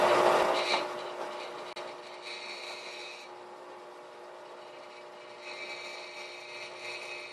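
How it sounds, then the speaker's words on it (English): A drill bores a larger hole through scrap wood for a leather stitching pony, a steady high grinding whir that eases and then resumes, close and alone with no voices. "the other side I'm going to drill a larger hole"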